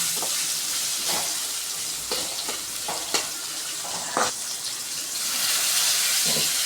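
Chopped tomatoes sautéing in a pan for Tamil chicken kulambu, with a continuous sizzle broken by several sharp scraping stirs of a spatula, moderately loud and without talk.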